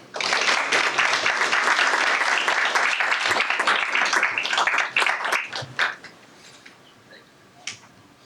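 An audience at a school board meeting applauds for recognized students, a sustained burst of many hands clapping that fades out over several seconds into room quiet.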